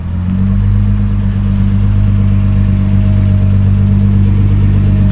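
A Nissan GT-R R35 with a Litchfield stage 4 tune, rated at 650 bhp, idles up close with a loud, steady, deep rumble. The engine never revs and no one speaks over it.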